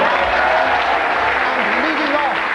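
A television studio audience applauds in a steady, dense wash of clapping, while a voice talks over it throughout.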